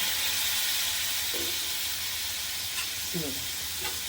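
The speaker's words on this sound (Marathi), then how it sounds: "आपण मिक्स करूया थोडी कोळंबी" Garlic prawns sizzle steadily in a pan on the stove, a constant frying hiss with a few brief scrapes of stirring near the end and no talk.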